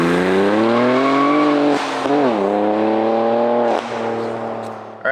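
A BMW G87 M2 makes a launch control start with a little wheel spin, its engine roaring loud and close as the revs climb in rising sweeps, with brief dips at each gear shift.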